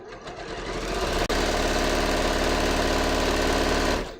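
A sewing machine stitches a dress seam in a steady, fast mechanical whir at close range, running continuously with only a momentary break.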